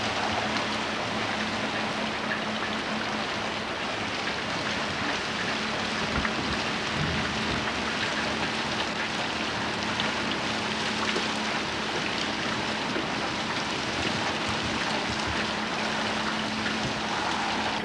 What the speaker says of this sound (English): that rain that hit our house yesterday out in California must have hit here today